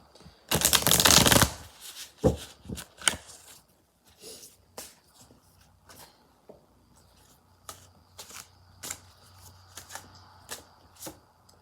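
A deck of oracle cards being shuffled, starting with a loud riffling burst, then a long run of crisp, separate card snaps and flicks spaced irregularly, close and with no talking.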